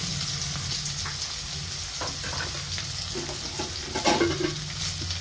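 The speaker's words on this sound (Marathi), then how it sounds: "आता ही कांदा पण तेलामध्ये टाकून घेते तळण्यासाठी" Onion frying in hot oil with garlic, a steady crackling sizzle with a brief louder burst of stirring partway through.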